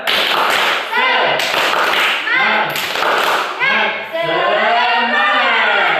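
Schoolchildren in a classroom perform a rhythmic clapping chant together, sharp claps in a patterned beat mixed with loud group chanting voices, close and energetic throughout.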